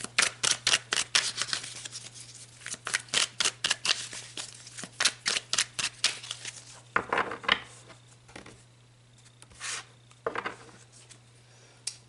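Tarot cards are shuffled in rapid riffling bursts, a dense run of crisp flicks and slaps close by, then a few softer rustles and single card pulls toward the end.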